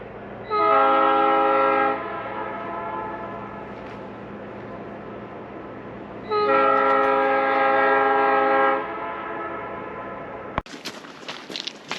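A train horn sounds two long, loud blasts several seconds apart over a low rumble of passing rail cars near Portage Glacier and Whittier, Alaska, then the sound cuts off abruptly.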